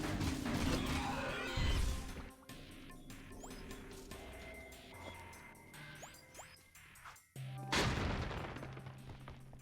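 Gunfire rings out during a boss fight in the video game Jak 2, with bursts of rapid shots, crashing impacts and mechanical game effects rising and falling over about ten seconds at moderate loudness, with no talk.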